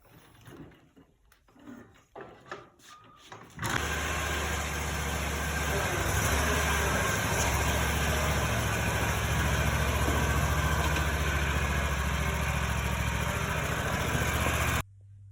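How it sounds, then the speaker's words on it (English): A riding lawn mower with a freshly repaired starter roars to life after some clunks and shuffling, then runs steadily and loudly up close for about eleven seconds before cutting off. "Got the starter repaired, and now the mower gets to mow."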